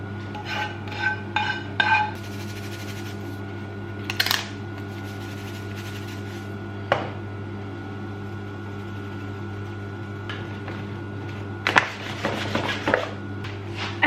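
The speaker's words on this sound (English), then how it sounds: "Then I add the mixture to the carrots, salt and pepper, and combine it all." Clinks and scrapes of a spoon stirring a honey mixture, salt and pepper into carrots in a bowl, a few quick clusters of metallic taps over a steady kitchen appliance hum.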